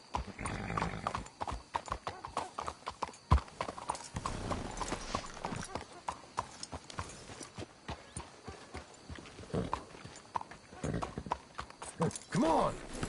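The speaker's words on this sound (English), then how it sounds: "Can't you control that damn horse?" Horse hooves clip-clop steadily in Red Dead Redemption 2 as riders approach a hitching spot, with occasional whinnies and shouted dialogue over the plodding rhythm.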